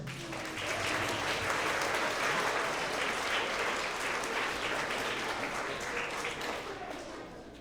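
A school assembly audience gives steady, full-room applause for fourth and fifth grade award winners, a dense wash of clapping that swells and then eases slightly near the end.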